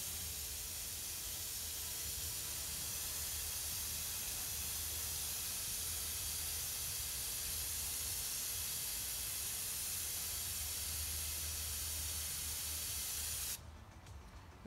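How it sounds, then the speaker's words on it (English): A spray gun hisses steadily as it mists glaze onto a large spinning pottery salad bowl, a continuous loud broadband spray held in one place for most of the stretch before cutting off near the end. "I'm not moving the sprayer"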